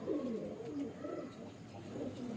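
Colored pigeons in a Hindi-speaking keeper's loft coo in soft, repeated, rolling phrases. The cooing is low and close and continues through the whole moment.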